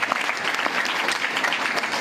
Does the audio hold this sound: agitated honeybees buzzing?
no